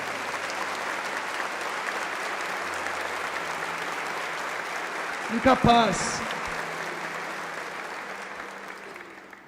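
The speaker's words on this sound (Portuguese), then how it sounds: "Pode aplaudir, pode aplaudir." Churchgoers at a Mass applaud after the homily, a continuous, evenly spread clapping from a large congregation, with a brief spoken word and a short burst of noise partway through.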